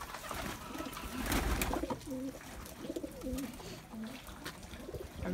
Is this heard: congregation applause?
no